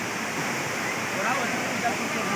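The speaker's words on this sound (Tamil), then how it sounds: "மெயின் அருவி தென்காசி மாவட்டத்தில் இருக்கக்கூடிய மெயின் அருவி இதுதான்" The main waterfall at Courtallam in Tenkasi district pours down in a constant, loud, broad rushing roar with no break.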